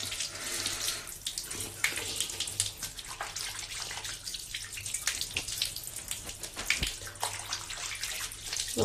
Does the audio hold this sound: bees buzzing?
no